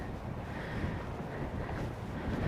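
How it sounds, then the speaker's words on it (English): Steady wind buffeting a microphone outdoors in a cold, windy graveyard, a continuous low rumbling roar with no distinct events and no speech. "Boy is it cold and windy, so let's hope this mic picks my voice up okay."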